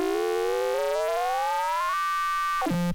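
A synth saw wave rises steadily in pitch with a sweeping phaser effect, then holds briefly before dropping sharply to a low tone at the end, loud and alone.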